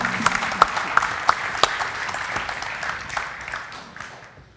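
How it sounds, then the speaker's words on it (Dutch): Audience applauding vocational secondary (VMBO) students on a late-night talk show stage, a burst of claps with several sharp individual hits that tapers off over a few seconds. "Nou, applaus voor de VMBO-leerlingen."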